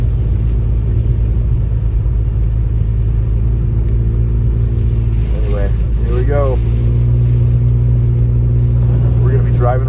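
A car drives through snowy Big Bear Valley in California during a winter storm, its engine rumbling steadily and loud throughout, with a person talking briefly over the drone partway through.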